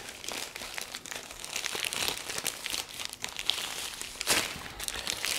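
A piece of meat being cured for homemade nitrate-free bacon is slipped into a plastic Ziploc bag, giving continuous close crinkling and crackling of plastic with occasional sharper crunches, no voice.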